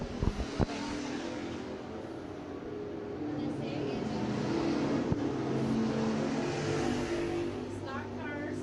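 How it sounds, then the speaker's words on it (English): IMCA hobby stock cars run a hot lap session at a dirt raceway, making a steady, droning roar of engines circling the track throughout. An announcer talks over the noise. "Green flag is out in this hot lap session for your Overton Sand and Gravel IMCA hobby stocks."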